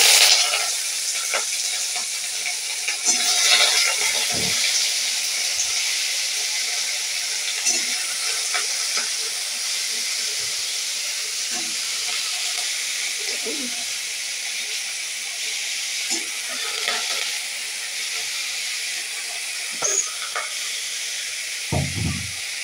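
Food fries in a pan until browned for a tiffin curry, a loud, steady hissing sizzle with scattered clicks and scrapes of a utensil.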